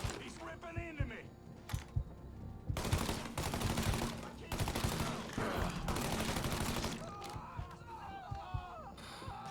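Rapid bursts of gunfire in the Mafia 3 video game, loud and sustained through most of the stretch, with scattered single shots before and after and players talking over the fighting.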